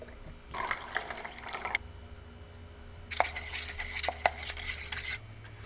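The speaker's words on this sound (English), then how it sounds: "It's time to mix the clear coat." Automotive clear coat being mixed with hardener and reducer at four to one to one in a container, heard as two bursts of scraping, clinking stirring and pouring, close and fairly quiet, with no talking.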